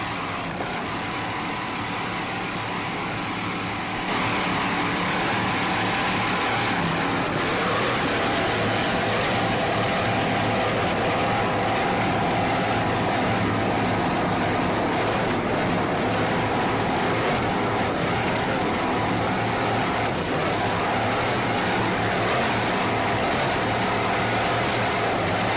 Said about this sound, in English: These Monster machine inboards sound excellent.